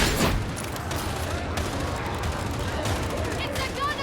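Rapid gunfire from an enemy gunner in the video game Darktide, a dense, continuous burst of shots over a noisy battle backdrop, loud and steady for the whole stretch.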